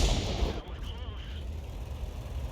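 A Grille self-propelled artillery gun fires in World of Tanks, a loud low boom at the start that fades into a rumbling tail with a thin whine. Talk is faintly present in the background.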